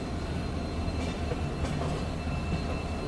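A Rajdhani Express rolling through a sweeping curve near Katihar Junction gives a continuous, close rumble of wheels on rail with faint squeals and light clatter, steady throughout with no voices.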